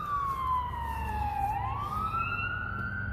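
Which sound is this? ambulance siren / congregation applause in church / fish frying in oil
ambulance siren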